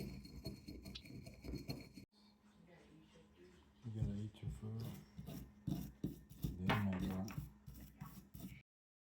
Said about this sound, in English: So I got this wire brush. I just want to clean off all this corrosion on this part and the base.